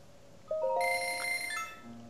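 Bell chime from the snowball bowling minigame in The Legend of Zelda: Breath of the Wild: a bright, ringing series of tonal dings that starts suddenly, sustains with overlapping pitches, then decays, fairly loud and clear with no talk.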